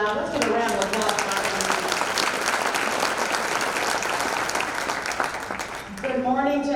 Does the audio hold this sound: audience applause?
yes